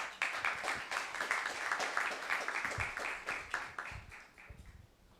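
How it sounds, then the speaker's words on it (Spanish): Audience applause at a university panel on open data and city management: a dense, fairly faint wash of many hands clapping that gradually thins and fades toward the end. "pidiendo un fuerte aplauso para Mirta Saleta"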